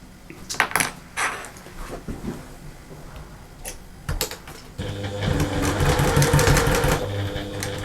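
A sewing machine stitches the seam of a cuddly teddy bear, with scattered clicks and taps of positioning the fabric, then a fast steady whirring run of the needle up close.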